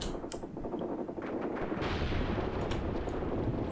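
Tank fire in the Graviteam Tactics wargame, with a couple of sharp distant reports followed by rolling rumbling booms over a dense battlefield background.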